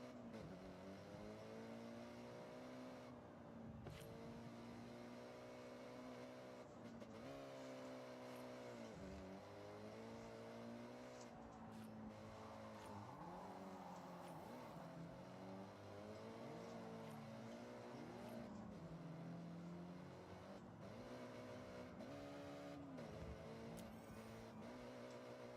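Cars in a Forza Horizon drifting session give continuous engine revving, with pitch rising and falling as they accelerate and slide. Overlapping engine tones and tire noise run through the whole clip.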